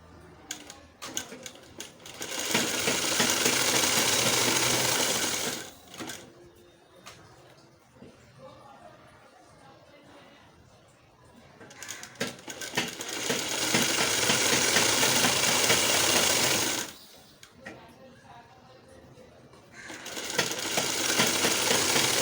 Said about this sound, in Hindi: चलो इसकी सिलाई लगा लेते हैं।